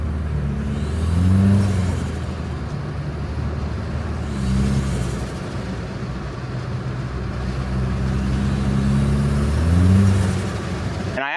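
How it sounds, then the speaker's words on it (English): Engine of a 4th gen Toyota Tacoma droning steadily from inside the cab, swelling into several rising turbo whooshes and revs as it accelerates, with no talking. "And then just the turbo noises too have been great."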